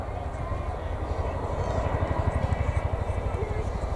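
An RAF display team's Boeing CH-47 Chinook helicopter flies at an air show, its rotors beating in a rapid, rhythmic low thump that grows stronger, heard under a commentator's voice.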